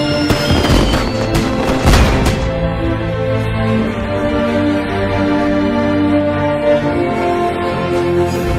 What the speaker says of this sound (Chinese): 烟花又不是信号弹。